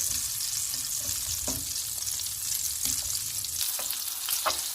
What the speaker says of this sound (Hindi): बटर मिक्स हो गया है, इसमें हम मिर्चें डाल देंगे।